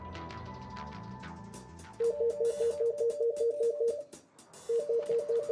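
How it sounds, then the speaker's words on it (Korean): An office telephone rings in repeated electronic trill bursts. A quiet stretch comes first, then the ringing starts loud and steady, breaks off briefly and resumes. "오늘도 사무실에 울려 퍼지는 전화벨 소리."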